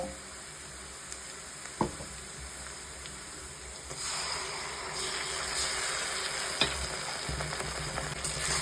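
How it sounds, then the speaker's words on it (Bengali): Ground spice paste added to fried onions in a pan for a potato and pumpkin curry, a soft hiss that swells into a steady, fuller sizzle, with a few light stirring knocks and no talk. "এবার আমি পেস্ট করা মশলাটা দিয়ে দেব"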